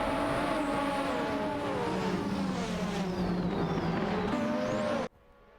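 Racing cars in a video game, including a McLaren MP4/4, whine steadily with layered engine tones and pitch shifts as they jostle for position, then cut off abruptly near the end.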